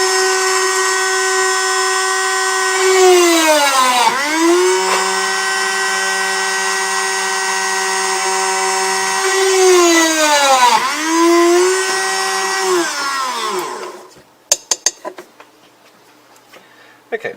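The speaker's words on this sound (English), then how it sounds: "I'm going to drill these 2 holes" Small drill boring two holes through a printed circuit board: a loud, steady motor whine that twice sweeps down and recovers as the bit bites and breaks through, then stops and leaves faint clicks and handling noise.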